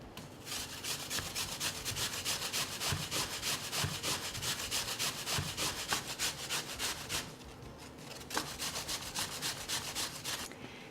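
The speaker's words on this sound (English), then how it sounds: "We're going to take our peeled apple and we're going to grate it." A peeled apple rubbed against a grater for an apple and applesauce pie, giving steady rapid rasping strokes, close and continuous, with a brief pause before the scraping resumes.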